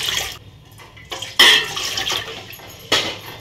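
Short bursts of water splashing into a metal idli steamer pot on the stove, with clinking of cookware between pours, close by.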